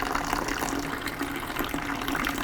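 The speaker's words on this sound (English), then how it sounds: "You get all the blue water to stop coming out." Distilled water gushes steadily through a Yamaha R6 radiator during a coolant flush, a close, continuous splashing pour with no talking.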